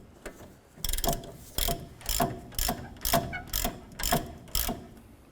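Ratchet wrench clicking in quick repeated bursts while a strut bolt is turned on a 2008-2012 Honda Accord rear suspension, about nine sharp ratcheting strokes close by with brief pauses between them.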